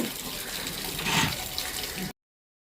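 Mountain spring water pouring from a stone spout in a Himalayan village near Joshimath, a steady close splashing rush for about two seconds before cutting off.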